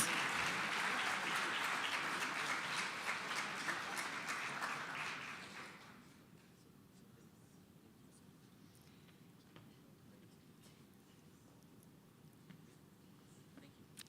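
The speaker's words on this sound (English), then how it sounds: "Give it up for Doug Sylvester." Audience applause at the 2022 Saskatchewan Sport Awards, dense and steady for about five seconds before dying away into a quiet room with scattered faint noises.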